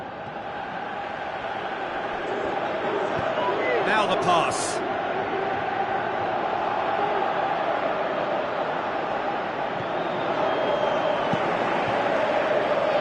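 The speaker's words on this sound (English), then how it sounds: "you can hear how the crowd are reacting to this too" Crowd noise from a football video game, PES 2018, a steady stadium roar running the whole time with a brief swell, under commentator talk.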